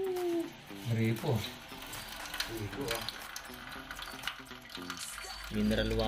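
Water running from a tap, a continuous splashing stream under someone talking.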